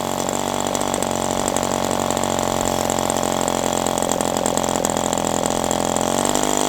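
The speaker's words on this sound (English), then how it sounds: "Maybe it's still just trying to find its good idle speed. So it sounds fine now." A Magnum 65 GPSE model airplane engine fitted with a three-blade prop idles on its first run. It drones steadily and loudly with a rapid buzzing pulse and shifts slightly in pitch near the end.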